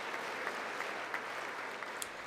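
An audience at a State of the Union address applauds in a steady, dense wash of clapping that sounds somewhat distant and fills the whole stretch without pause.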